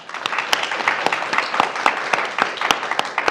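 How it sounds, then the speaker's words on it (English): An audience claps together in steady, dense applause with sharp individual claps standing out throughout. "So clap if you're for Amendment A, meaning you support the amendment."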